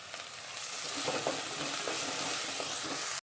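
Curry leaves dropped into hot oil crackle and sizzle loudly and steadily up close, a dense hiss with faint stirring scrapes, before cutting off abruptly.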